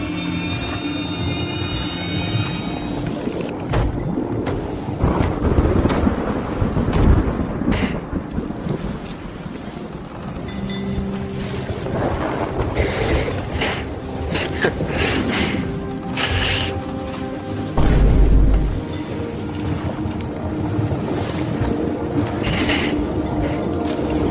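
Thunderstorm in Elder Scrolls Online, with rumbling thunder, wind and rain rolling through steadily and a heavy low boom near the end, alone without talk.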